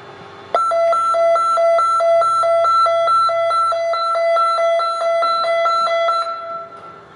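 An automatic fire alarm control panel sounds a loud, steady electronic beep, rapidly alternating in a regular rhythm for about six seconds before stopping abruptly.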